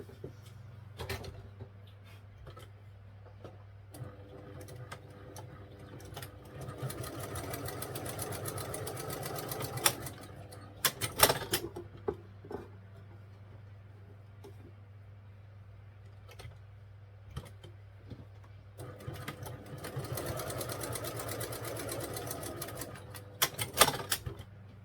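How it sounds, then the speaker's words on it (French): A sewing machine sews a straight-stitch seam on a half-moon bag in two long bursts of rapid, steady stitching, separated by quieter pauses with small clicks and handling noises. "on va venir faire une couture tout simplement au point droit"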